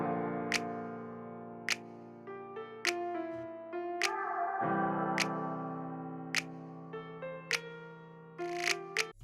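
A snap drum pattern is programmed in FL Studio for a beat, with sharp, evenly spaced snaps cutting through a sustained synth melody.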